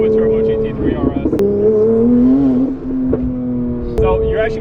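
A twin-turbo Porsche GT3 RS making 1,000 horsepower drones loudly and steadily from inside the cabin, its pitch rising and falling through gear changes, with people talking over it.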